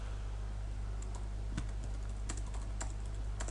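Fingers type on a computer keyboard in light, irregular clicks and taps, quiet and close over a steady low hum.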